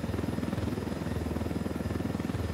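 A helicopter flies in the video game Ghost Recon Wildlands, its rotor thumping in a fast, steady rhythm over a low engine drone, loud and continuous.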